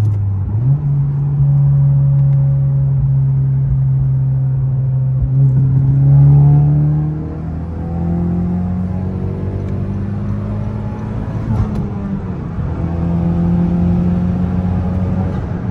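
A 10th gen Honda Civic Si with a slipping clutch and stock turbo accelerates onto a highway. A loud, steady engine drone rises through the gears, with road rumble heard from inside the cabin.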